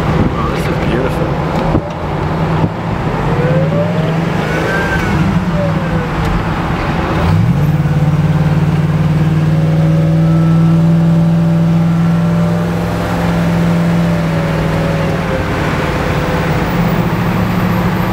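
A supercharged Coyote engine swapped into a 1978 Ford F350 dually, exhaling through TIG-welded stainless exhaust with two 20-inch resonators, drones steadily and revs up and down amid wind noise, while people talk over it.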